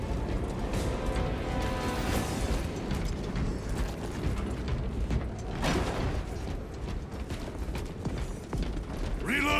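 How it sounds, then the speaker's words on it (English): Grinding gears and clanking ratchet-like mechanisms of a bridge contraption in Warhammer 40k Space Marine 2, a dense continuous mechanical churn with creaks and metallic knocks, loud and close. "Gears are grinding like an orb contraption."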